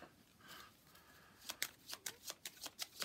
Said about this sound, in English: Shuffle up that AI draw deck, get that 5th card.